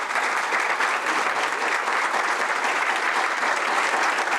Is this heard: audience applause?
yes